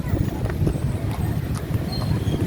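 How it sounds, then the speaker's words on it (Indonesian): Hooves of a ride horse clip-clop at an outdoor spot with rides during a Ramadan outing in Indonesia. A steady stream of hoof knocks runs through a busy ambient background while people talk. "Tuh bisa naik horse."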